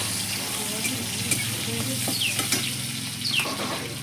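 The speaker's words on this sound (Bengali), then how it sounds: "পেঁয়াজ কুচিটা একটু ভাজা ভাজা করে নেব" Chopped onion frying with black cumin in mustard oil in a kadai, a steady close sizzle with light stirring scrapes and occasional clinks.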